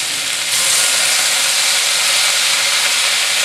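Shaoxing wine hits a hot pan and erupts into a loud, dense hiss that swells within the first half-second and then holds steady and strong throughout, with no voices.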